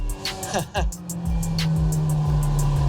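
The engine of a 2002 Honda S2000 driving with the top down, revving with shifting tones and then settling into a steady loud drone, while a person speaks over the start.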